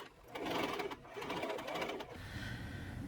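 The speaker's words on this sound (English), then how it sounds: "I'm going to sew the center line and then see if I can just keep going from there" A sewing machine stitches the center line of a cotton dress, its needle whirring in a steady rapid rhythm, close and fairly loud, pausing briefly before running on.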